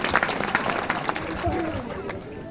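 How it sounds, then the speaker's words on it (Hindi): Applause from an audience at a school's annual program, a moderate round of clapping with a murmur of voices and some background noise mixed in, fairly steady throughout. "मोहित जी के लिए एक जोरदार ताली हो जाए।"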